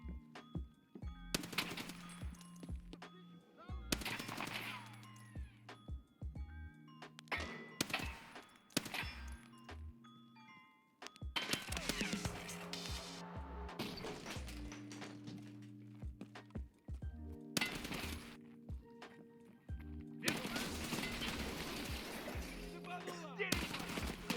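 Rapid bursts of SCAR-L rifle fire in the shooter game Escape From Tarkov, loud and near, clustered in repeated volleys with short gaps between them, alongside other in-game combat noises and no talking.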